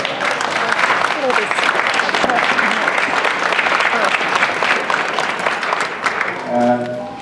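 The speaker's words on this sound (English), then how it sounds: "please stand, and give her a round of applause" An audience at a CACCI gathering in Brooklyn Hall rises and applauds, a thick, sustained wash of clapping that carries on for several seconds and eases slightly near the end.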